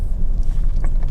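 Car driving into the Anglesey racing circuit in the evening, a low steady engine and road rumble with some wind buffeting, close and fairly loud, no talk.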